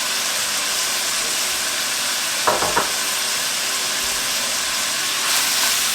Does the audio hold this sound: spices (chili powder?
yes